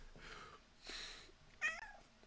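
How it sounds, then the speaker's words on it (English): A cat meows in a few short calls, moderately close, over a faint background during a Pathfinder: Wrath of the Righteous game session. "And my cat wants attention"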